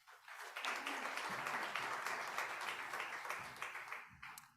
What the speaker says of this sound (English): So let's give Rosemary a warm round of applause.